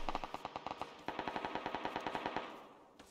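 Rapid automatic gunfire in the PUBG video game rattles off in steady bursts of evenly spaced shots at moderate loudness, with no talk over it.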